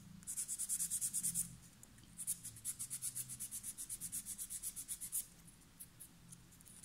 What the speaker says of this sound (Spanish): le hago un raspado rápido general sin tocar mucho, por si quedan residuos en las paletas